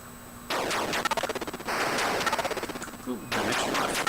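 Rapid bursts of retro Atari 2600 video game shots fire in quick rattling volleys with short pauses between them, loud and crisp over a steady electronic hum, with a few descending tones between volleys.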